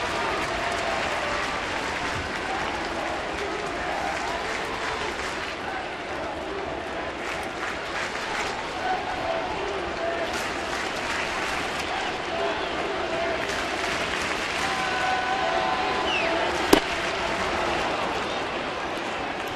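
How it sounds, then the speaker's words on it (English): A baseball crowd in Toronto cheers and applauds steadily with excitement in the bottom of the ninth of a 2013 Oakland at Toronto game, a continuous roar with scattered claps and a commentator talking over it. "Crowd on their feet."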